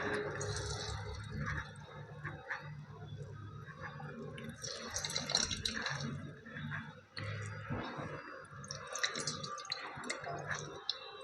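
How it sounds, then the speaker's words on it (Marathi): Soaked lentil dahi vadas squeezed by hand in a home kitchen give close, soft wet squelches and water drips in irregular bursts, with no talking. "आता मी याचं हे पाणी काढून घेते."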